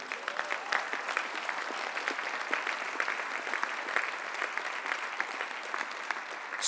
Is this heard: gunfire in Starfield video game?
no